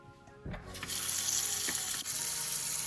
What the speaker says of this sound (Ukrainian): Заливаю водою і промиваю, ретельно промиваю ростки.